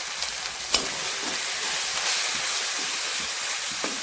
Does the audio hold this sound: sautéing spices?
yes